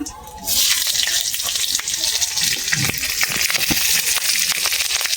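Green chilies dropped into hot fish oil in a pan with radhuni seeds burst into a loud, steady hiss and sizzle right after a brief quiet start, crackling continuously and close by with no talking.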